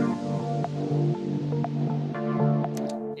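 Deep house track with a gritty bass added under the chords, a fuller low end pulsing in a steady rhythm beneath sustained pads and light percussive ticks, continuous and close throughout.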